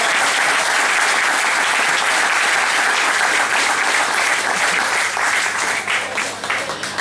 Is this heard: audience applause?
yes